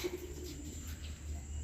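Racing homing pigeons at a one-loft derby race in Indonesia cooing softly after arriving home, a faint low coo over quiet background hum.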